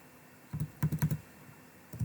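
Typing on a computer keyboard while entering Excel cell references: a quick cluster of several crisp, close key clicks followed by a lone keystroke, with no voice.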